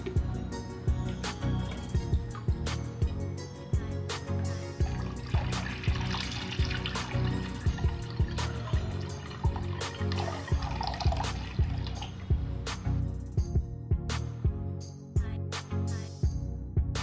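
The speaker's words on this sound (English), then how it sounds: "Gently fill the container with water." Water pours steadily into a container for a long stretch, a continuous splashing fill with occasional knocks and clunks throughout.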